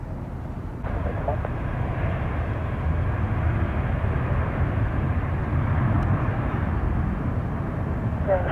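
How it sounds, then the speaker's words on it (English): A fixed-wing airliner takes off from runway 1 left at San Francisco International Airport, its engine roar a steady, loud, broadband rumble that holds throughout, with faint radio talk underneath. "Skywest 182 Alpha, runway 1 left, cleared for takeoff."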